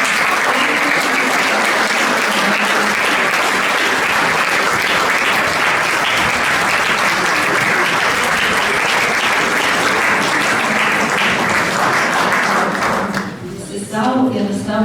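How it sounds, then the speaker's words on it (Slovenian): Audience applause at a choir singing evening: dense, loud clapping from a large crowd holds steady for about thirteen seconds, then thins out and fades quickly at the end. "Bučen aplavz."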